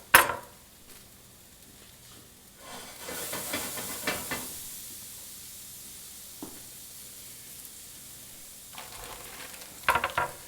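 Thawed frozen okra goes into a hot pan of oil for Texas cafe-style fried okra, setting off a loud hissing sizzle that gradually settles into a quieter, steady frying crackle, with a few sharp clatters at the start and end.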